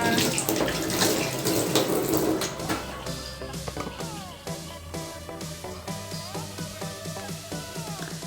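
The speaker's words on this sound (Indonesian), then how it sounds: "Kita cuci tangan dulu Ligongnya" A kitchen tap runs steadily as hands are washed before handling homemade cat wet food; the broadband gush fills the first few seconds, then gives way to background music.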